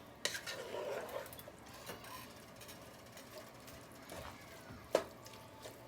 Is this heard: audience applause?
no